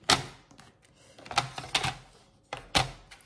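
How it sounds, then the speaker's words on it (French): A paper trimmer (massicot) slicing through small cards, several sharp crisp chops spaced irregularly, close and fairly loud with quiet pauses between cuts. "Donc maintenant on va prendre notre massicot"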